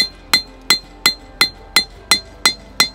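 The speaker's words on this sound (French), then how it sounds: "Donc là, on sort le tranchant au marteau." Steel knife blade being hammered at the edge to draw out the cutting edge at a knife fair, eight sharp, evenly spaced metallic strikes with ringing high overtones, close and loud with no talk.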